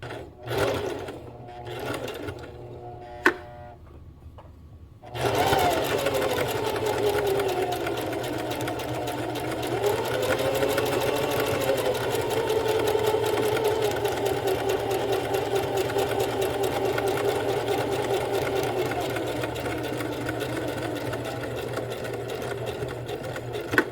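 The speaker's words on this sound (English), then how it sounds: "start with the needle down in the fabric" A sewing machine stitches a French seam in fabric, with a few clicks and handling sounds at first, then a loud, continuous motor whir and needle clatter that varies slightly in speed and runs unbroken for nearly twenty seconds.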